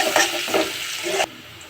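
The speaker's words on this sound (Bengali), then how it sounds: "পেঁয়াজটা হালকা করে ভেজে নিয়েছি।" Chopped onions fry in a pan with a steady broadband sizzle, rising in a few brief surges before cutting off abruptly near the end.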